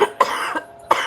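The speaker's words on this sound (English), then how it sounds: "I'm sorry for the coughing." A person coughs three times at close range, short harsh bursts separated by brief pauses, with no talking.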